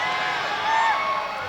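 Basketball arena crowd at a 1985 Valdosta State versus Troy State college game during a free throw: steady, dense crowd roar with shouting and whoops, loud and sustained throughout.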